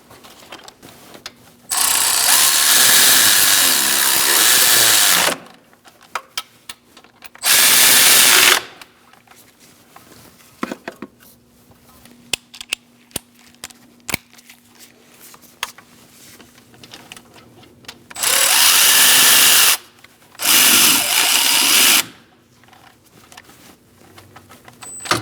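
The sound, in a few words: power tool snugging bolts on Toyota Camry transmission mount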